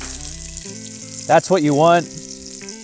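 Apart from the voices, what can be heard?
onions sizzling in olive oil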